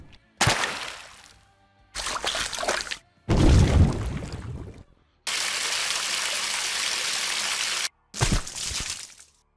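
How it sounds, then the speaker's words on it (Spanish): Water sound effects from the audio files of Call of Duty: Black Ops 2 Zombies, Die Rise map: five separate bursts of splashing, pouring and flowing water, each cut off by silence, the fourth a steady rushing stream. "en Die Rise tenemos muchos archivos de agua"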